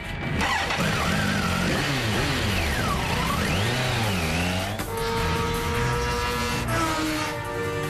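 A Kawasaki ZX14 motorcycle accelerates hard, its loud engine whine sweeping up and down in pitch before settling into a steady high drone, with no talking.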